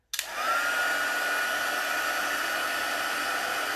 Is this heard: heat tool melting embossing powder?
yes